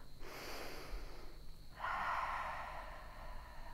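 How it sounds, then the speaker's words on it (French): Two slow, audible yoga breaths: a long nasal inhale followed by a fuller, louder exhale, close and unaccompanied by speech. "Prenez ici le temps d'un inspire et d'un expire."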